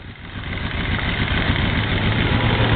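Yamaha Venture V-4 motorcycle engine running steadily at close range, a deep continuous rumble that builds slightly in loudness, with no voices.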